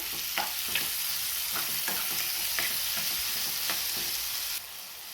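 Carrot and pea vegetable stirred in a hot pan, a steady frying sizzle under repeated spoon scrapes at an even rhythm, near and fairly loud, no voices.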